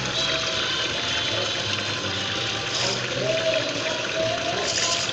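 Water pours steadily into a 12 kg washing machine, a continuous rushing and splashing that stays fairly loud and even throughout.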